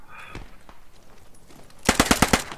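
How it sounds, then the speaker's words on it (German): A loud, rapid burst of automatic gunfire in the video game Post Scriptum, about eight sharp shots in quick succession, after a quieter stretch with a few faint distant pops. "Ich verstehe gerade nichts, mal grad zu viel Schuss."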